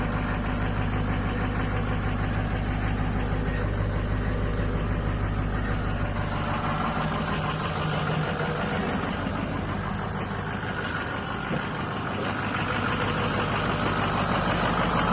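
A 2005 6.0 diesel engine with 202,000 miles idles with a steady, even clatter and rumble, close and continuous throughout.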